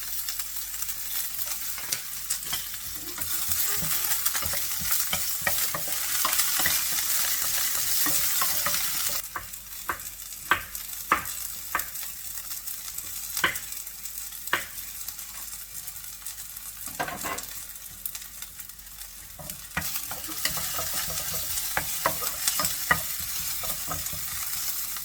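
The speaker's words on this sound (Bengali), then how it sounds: "সফটা আমি তেলটা গরম হওয়ার পরে ঢেলে দিলাম" Fennel seeds and onion frying in hot oil, a loud continuous sizzle with scattered sharp crackles and stirring scrapes, easing to a quieter hiss partway through and then rising again.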